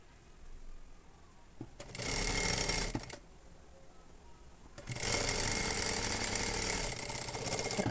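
A sewing machine stitching a half-inch seam on a blouse runs in two bursts, a short one and then a longer steady whir, close and moderately loud with a quiet pause between, no talking.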